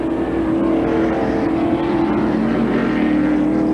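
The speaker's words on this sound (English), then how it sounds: "Davey Allison did get the car going. He still is in second place" NASCAR stock cars on the final lap at Sonoma Raceway, a steady, loud engine roar with a sustained droning tone, continuous and close for the whole stretch.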